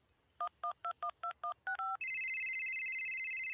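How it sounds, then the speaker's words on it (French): A telephone keypad taps out a quick run of eight dialing tones, then a steady, bright electronic ring tone sounds continuously, close and clear with no talking. "Les Jimmy réagissent à la sonnerie."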